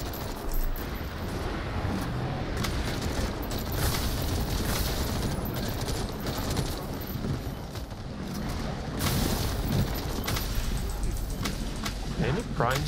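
Grenades going off in a first-person shooter video game, heavy booming blasts with rapid gunfire crackling around them, a dense and continuous barrage of loud combat.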